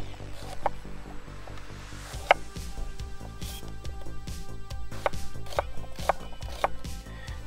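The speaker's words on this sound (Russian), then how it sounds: "Ну, без лука просто никуда, поэтому нарезаем его стандартно полукольцами" A knife slices an onion into half rings on a cutting board, regular close thumps with a few sharper clacks, over a faint steady hum.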